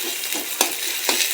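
Curry frying in a pan in a village kitchen, under a loud continuous sizzle with a few soft stirring scrapes, close to the microphone and without any voices.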